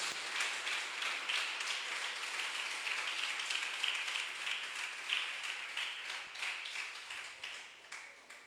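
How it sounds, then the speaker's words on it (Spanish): A church congregation applauds for God, a steady, dense wash of many hands clapping at a distance, fairly faint and fading out near the end. "Si le va a dar palmas, désela fuertes al Rey de Reyes y Señor de Señores"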